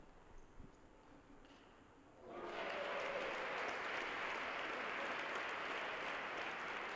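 Table tennis crowd at a world junior championship match bursts into loud, sustained cheering and applause after a quiet stretch, the broadband roar holding steady to the end.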